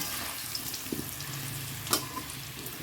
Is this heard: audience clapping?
no